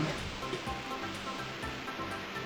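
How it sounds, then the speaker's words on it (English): Water rushes and drains steadily in a Banjo-Kazooie level, a broad continuous wash with faint low thumps, no talk over it. "Every single time you're back here, we need to drain the water again."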